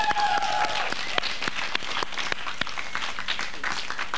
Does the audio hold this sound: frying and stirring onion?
no